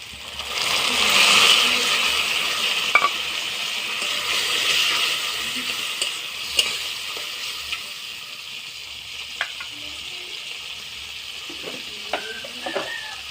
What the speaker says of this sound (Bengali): এখন আমি চিংড়ের কুচিটা দিয়ে দেবো